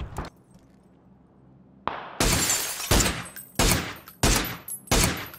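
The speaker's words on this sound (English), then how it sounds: "oh yeah, I'm getting shot at." Gunfire in the battle royale game PUBG: after a quiet start, a series of loud, sharp shots rings out in bursts, near and harsh, with no one talking.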